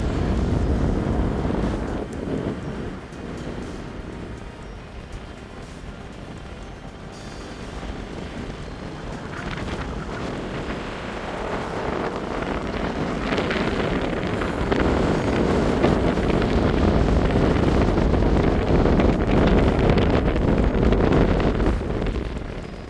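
Strong wind roars steadily across An Stùc, a mountain ridge in the Ben Lawers range in Scotland, buffeting the microphone with a loud, continuous rush that swells stronger toward the end.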